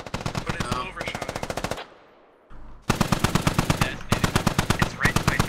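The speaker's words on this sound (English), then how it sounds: "My squad is taking fire." Rapid machine-gun bursts in a military video game, loud and close, with a brief lull midway before longer sustained volleys resume.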